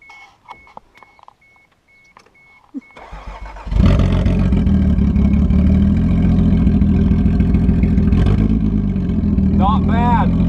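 A Toyota MK3 Supra cranks and fires up after a new fuel pump is fitted. Beeps and soft clicks are followed by a brief starter whir, then the engine catches and settles into a loud, steady idle up close, with a voice near the end.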